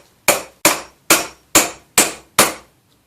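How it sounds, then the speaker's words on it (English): Six sharp, evenly spaced hammer taps drive a nail into wood on a school woodwork bench, each strike a clean loud crack with a short decay and nothing else around it. "Hold it in place, tap it with a hammer"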